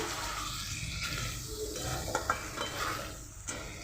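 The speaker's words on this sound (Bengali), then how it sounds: "ভালোভাবে এবার আবার নাড়াচাড়া করে নেব মাংসটা" Chicken meat being stirred in a pan, cooked with Maggi sauce instead of tomato, with scraping spoon strokes and clinks over a soft frying sizzle, moderately close and steady throughout.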